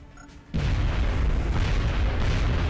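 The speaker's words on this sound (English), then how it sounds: "Grenade." A grenade detonates in the strategy game XCOM Enemy Within, a sudden loud boom after a quiet moment that settles into a sustained, dense rumble of blast and debris.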